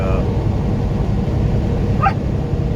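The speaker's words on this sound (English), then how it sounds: "What a dog." A dog whimpers and gives short yips at close range, a brief high whine breaking through near the end over a steady low road rumble inside a vehicle.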